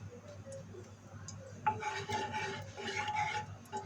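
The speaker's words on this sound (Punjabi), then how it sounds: "ਘਿਓ ਨੂੰ ਹਲਕਾ ਜਿਹਾ ਗਰਮ ਕਰਕੇ ਇਹ ਵੇਸਣ ਪਾ ਦਾਂਗੇ" Besan (gram flour) being stirred in warm ghee in a pan, a soft steady scraping and rubbing with a low background hum, close and moderate.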